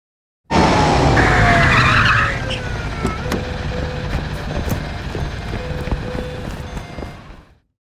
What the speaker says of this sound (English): I wanted to add a little bit of a fade away of the van as everybody's moving away from it